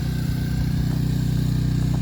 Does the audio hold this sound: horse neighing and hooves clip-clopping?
no